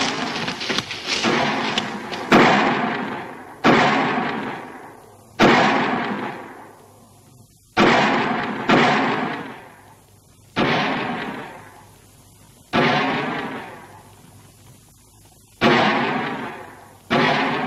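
Gunshots from a western film ring out one at a time at irregular intervals, each loud crack followed by a long echoing decay.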